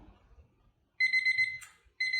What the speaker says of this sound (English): We've got to wait for the timer to ring.